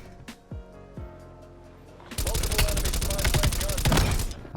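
An XM4 rifle fires in Black Ops Cold War, a loud rapid burst of automatic shots lasting about two seconds, after a few quieter game sounds at the start.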